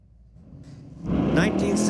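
At a street-legal drift and drag night at Mission Raceway Park, race car engines fire up beside the tower, a rumble building from quiet into a loud, rising roar over the last second, with an announcer talking over it.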